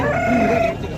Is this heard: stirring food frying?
no